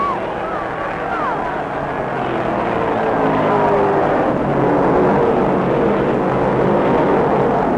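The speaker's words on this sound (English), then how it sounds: "in an unending explosion of sound, the cars rocket under green silk and the World 600 is on." A pack of 1967 World 600 stock cars thunders away under the green flag at Charlotte Motor Speedway, a loud, continuous roar that swells and holds with sweeping engine tones throughout.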